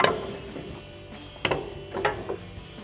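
A ratchet backing off a nut on the front suspension of a Toyota 4Runner during a leveling kit install, quiet mechanical clicks with a few sharper metallic bursts and knocks in a garage.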